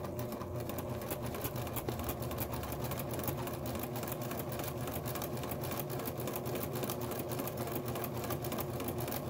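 A Pfaff 1475 CD sewing machine stitches fabric with a continuous, fast, even mechanical chatter and a steady motor hum, close up and alone throughout.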